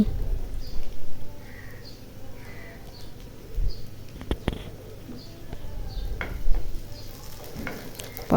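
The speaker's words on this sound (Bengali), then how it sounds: "এই যে দেখুন আমি পেঁয়াজটা ভালো করে ভেজে নিতেছি" Onion frying in a pan for sabudana khichuri, a low steady sizzle with occasional scraping stirs and knocks, while faint bird chirps sound in the background.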